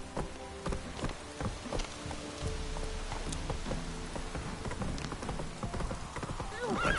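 Hooves of Roach, a horse ridden in the video game The Witcher 3, clip-clop in a quick steady rhythm, mixed with rain-like patter, low music and a brief neigh toward the end.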